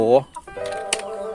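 A laying hen gives a short, loud squawk, followed by softer clucks and rustling close by, while eggs are collected in the evening.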